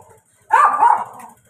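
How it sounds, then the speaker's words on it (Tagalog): An angry dog barks from a street along Capulong Highway in Tondo, a loud, rough outburst of about half a second, nearly continuous, standing alone against quiet background. "Ang galit yung aso."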